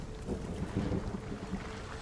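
Rough sea at night in a game setting, a steady rush of wind and churning waves with gusty swells, broadband and moderately loud, no voices.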